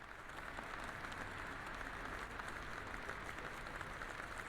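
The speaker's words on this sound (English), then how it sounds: "They're clapping." Steady applause from a crowd in the PC horror game Detention fills the whole stretch, dense and even, with no voices over it.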